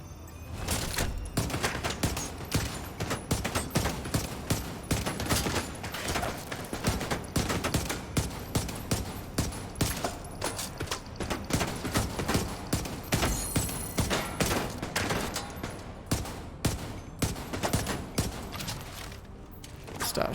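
Dense, continuous gunfire from a shooter battle in The Division 2, with rapid overlapping shots and bursts rattling on for about twenty seconds at steady loudness and no speech.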